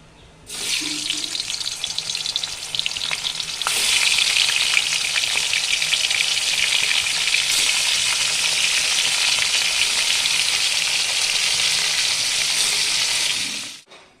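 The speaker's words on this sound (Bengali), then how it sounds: "তেলটা ভালো হয়ে গরম হয়ে গেলে আমি সব মাছগুলো ভেজে নেব" Hilsa fish frying in hot oil in a wok, giving a loud, steady sizzle that starts abruptly, swells slightly a few seconds in and continues unbroken before cutting off.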